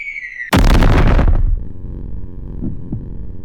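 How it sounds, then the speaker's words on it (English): A nuke detonates in the game Sir We Have An Orc Problem: after a brief rising tone, a sudden loud blast roars for about a second, then fades into a low rumbling aftermath with small pops. "Next one is a nuke."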